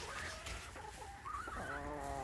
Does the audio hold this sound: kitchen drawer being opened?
no